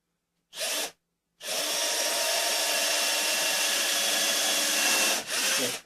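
Power drill driving a construction screw into a wooden box, heard up close. A short burst comes first, then after a pause a long steady whine of about four seconds, then a final short burst.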